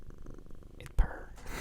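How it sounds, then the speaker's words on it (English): A contented pet cat purrs close to the microphone, a soft steady low rumble, briefly broken by a louder bump and rustle partway through. "Can you hear him purr?"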